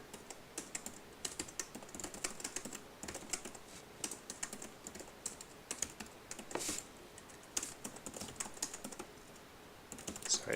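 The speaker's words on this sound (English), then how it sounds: "sorry, I can't type and talk at the same time." Rapid, uneven clacking of a computer keyboard being typed on, in bursts with short pauses, close and alone while an example web page is written.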